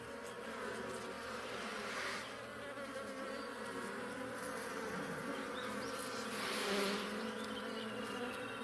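Dense, steady buzzing of many bees swarming around a beehive, a continuous close drone that swells slightly twice, with no talk over it.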